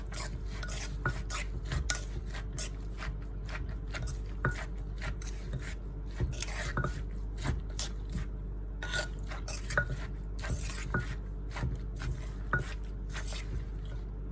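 Rice noodles with salt are lightly pounded in a mortar, producing a steady run of soft, close knocks and scrapes, each stroke quick and regular, with no talking.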